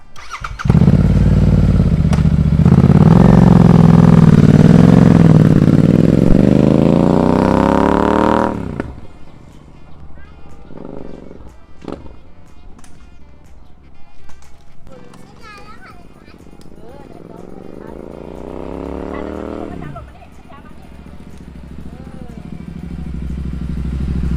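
A Royal Enfield 650 motorcycle with a newly fitted Racing Boy clutch master cylinder revs loudly and climbs in pitch for about eight seconds, then cuts to a low idle before a second, softer rising rev, with voices nearby.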